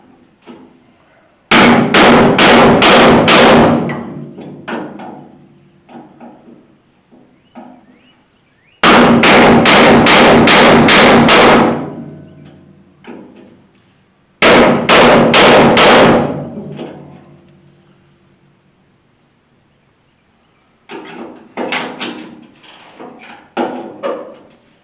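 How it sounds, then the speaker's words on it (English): Hammer blows knocking rivets loose to free a door from a 1983 Chevy C30 truck bed, loud rapid bursts of metallic strikes in three clusters with quieter taps and pauses between. "I think I'm just going to take and see if I can pop the rivets loose and knock this door off"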